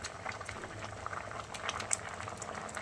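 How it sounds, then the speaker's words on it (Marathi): A pot of drumstick sambar bubbling at a vigorous boil, close up, with steady gurgling and small popping bursts throughout. "बघा कसे खणखणीत उकळी येते"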